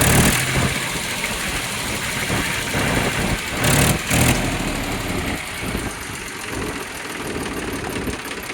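A Mahindra 275 tractor with a recently rebuilt, fault-free engine idles steadily up close, a loud, even diesel chug with a rough knocking rhythm and no talk over it.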